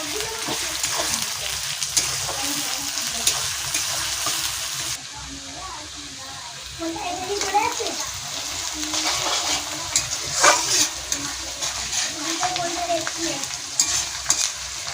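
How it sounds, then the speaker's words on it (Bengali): Sliced onions frying in oil for a mutton curry, a loud continuous sizzle with repeated spatula scrapes and stirring clatter, a brief quieter dip midway, and a voice speaking intermittently over the cooking. "পেঁয়াজ ভাজা হয়ে এসেছে"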